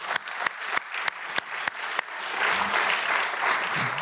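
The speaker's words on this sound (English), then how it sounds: "And give them also a big applause," Conference audience applauding the Descubreme group at the Zero Project forum. Dense clapping swells to a steady roar, with a few sharp claps standing out early and a faint voice underneath.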